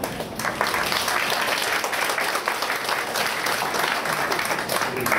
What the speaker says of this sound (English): So applause on that.